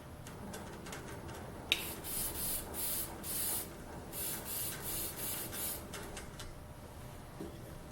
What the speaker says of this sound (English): I just like to use spray polyurethane, the simplest and the quickest.